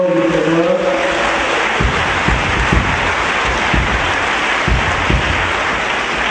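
A church congregation claps and cheers loudly, a dense continuous wash of applause with a brief voice or tone at the start.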